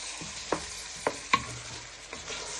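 Chopped tomatoes being stirred in a frying pan, a soft sizzle underneath three or four distinct scraping knocks of the utensil against the pan, close and moderately quiet.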